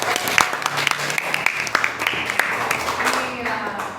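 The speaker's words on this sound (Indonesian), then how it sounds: "berikan juga aplaus" Classroom applause from a group of students, steady clapping lasting several seconds with a few brief voices mixed in, fairly close and lively.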